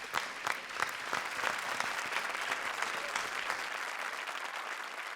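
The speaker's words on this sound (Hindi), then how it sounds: "जोरदार तालियां शयंतनी के लिए" A studio audience claps loudly on a comedy show stage, dense sustained applause with sharp individual claps throughout, easing slightly near the end.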